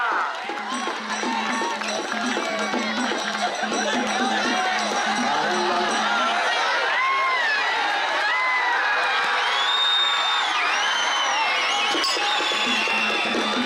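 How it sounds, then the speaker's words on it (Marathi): A crowd at an outdoor kusti wrestling match roars and cheers continuously, with shouts and high whistles rising above the din. "टाळ्या टाळ्या टाळ्या"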